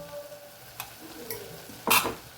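Vegetable pulao is mixed gently in a pot, soft scraping strokes over a faint background, ending with a louder brushing scrape of the spoon against the pot.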